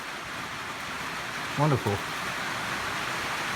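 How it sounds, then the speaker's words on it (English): Heavy rain falls outdoors as a steady broadband hiss throughout, with a brief spoken word cutting through in the middle. "there's a lot of rain now."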